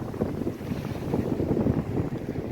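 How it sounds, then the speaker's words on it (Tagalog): Gusty winter wind buffets the microphone by the sea at Porto Rafti, a low, rough rushing roar that surges and dips, with no voices. "Mahangin oh."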